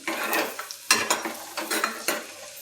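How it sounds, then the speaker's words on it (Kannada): Raisins stirred and fried in a pan, with a spoon scraping the pan in quick, irregular strokes over a steady sizzle, close and fairly loud. "ಈಗ ಇದು ಎಲ್ಲನೂ ಚೆಂದಾಗಿ ಕೆಂಪಾಗು ಮಟ್ಟ ಕರ್ಕೋಬೇಕು ನೋಡ್ರಿ ದ್ರಾಕ್ಷಿ ಎಲ್ಲ ಒಬ್ಬರು ಬರಾಕತ್ತವು"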